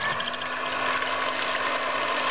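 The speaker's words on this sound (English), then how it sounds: "Now we'll beat the egg white." An electric beater whips egg whites in a bowl, giving a steady, close mechanical whirring buzz with a faint rattle that runs unbroken for the whole stretch.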